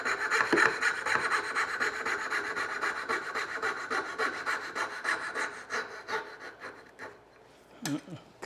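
Hand saw cutting a houndstooth dovetail joint in wood, a steady rasping back-and-forth stroke close up for most of the clip, thinning out and pausing near the end before a brief final stroke.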